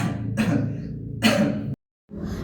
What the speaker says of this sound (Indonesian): kenapa batuknya parah sekali?